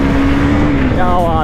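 KTM Duke motorcycle engine running at speed on an open road, a steady droning hum with a rising harmonic whine near the end, loud and continuous beneath rushing wind and talking riders.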